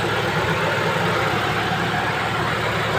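A Mitsubishi Lancer GLXi engine idles with a steady, even hum, close and moderately loud, with no voices and no change in pace.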